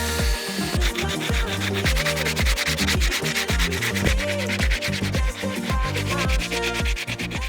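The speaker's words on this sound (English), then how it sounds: "just going around sanding off any bits that are protruding up that might rip the EPDM" Rapid, steady back-and-forth sanding strokes, loud and close, with a rasping rhythm that continues without pause, sanding down protruding screw bits on a timber cabin roof before EPDM rubber goes on.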